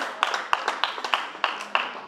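Audience at a comedy roast show claps, a scattered round of hand claps with distinct sharp individual slaps over a light background wash, moderately close and loose in rhythm.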